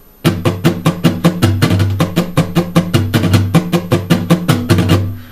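Quick, driving strumming on an acoustic guitar plays the lead part of a song at full speed, tight rapid strokes over sustained chords, close and loud with no voices.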